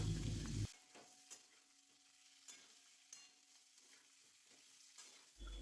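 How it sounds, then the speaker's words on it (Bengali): Boiled potatoes are stirred in a wok with bay leaf and cumin, a faint, low sizzle under soft, intermittent scraping taps of the spatula, with louder bursts of noise at the very start and end. "আলুটা একটু নাড়াচাড়া করে তার মধ্যে দিলাম স্বাদ মতো নুন।"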